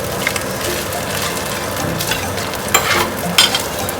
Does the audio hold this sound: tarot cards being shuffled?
no